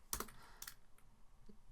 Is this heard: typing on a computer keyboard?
yes